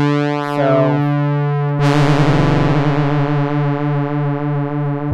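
Roland SH-101 analog synthesizer playing a sustained, harmonically rich tone with LFO modulation, its pitch and filter sweeping up and down; a bright swell near two seconds, loud and steady throughout.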